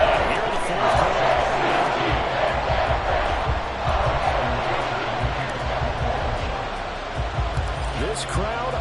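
A football stadium crowd roars during a fourth-quarter comeback in a Ravens versus Eagles game, a dense, sustained surge of cheering with rhythmic thumps, loud and enveloping, under commentary.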